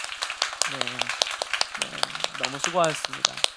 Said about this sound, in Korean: 지난 한 해 동안 수고한 서로를 향해서 시간 함께 박수로 좀 축복했으면 좋겠습니다